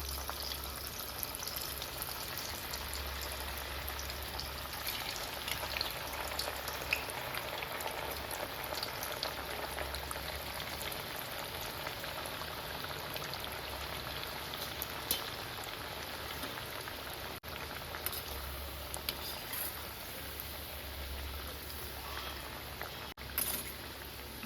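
Dal batti pieces deep-frying in hot oil give a quiet, steady bubbling sizzle with fine crackles that continue evenly throughout, under a low background hum.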